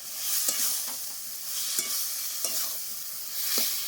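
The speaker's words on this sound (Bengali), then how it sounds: "ভেজে রাখা এঁচোর আলু দিয়ে দিলাম দিয়ে ভালো করে কষি দিলাম" Fried jackfruit and potatoes tossed with spices in a pan: a steady loud sizzle with several soft stirring knocks spaced about a second apart, close up and without talk.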